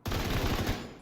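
Rapid automatic gunfire in The Division 2 aimed at enemies, one short, loud burst of about eight quick, evenly spaced shots.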